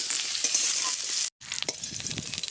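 Cauliflower and carrot frying together in a pan, a steady close sizzle with a brief cut to silence midway, then stirring clatter and scraping over continued frying.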